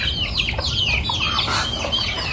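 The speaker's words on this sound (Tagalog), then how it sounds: "Ayan po at kagulo na sa sapal ng niyog ang mga bibi at manok." Ducks and chickens squabble over leftover coconut pulp, with a dense, close chorus of clucking and squawking that runs continuously and noisily, no voices heard.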